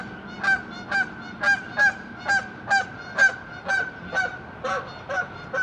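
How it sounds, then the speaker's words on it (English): Geese honk repeatedly in a steady, evenly spaced series of loud calls, about ten honks over several seconds, with no talking. "geese."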